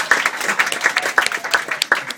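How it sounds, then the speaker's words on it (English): A small ripple of applause from guests at a wedding during a best man speech, scattered clapping of moderate loudness lasting about two seconds, with no one speaking. "just a small ripple of applause for Milosh"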